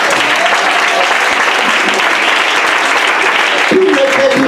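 A church congregation claps and cheers for Jesus in a steady, dense wash of applause that fills the whole stretch, with scattered voices shouting through it and a louder swell near the end.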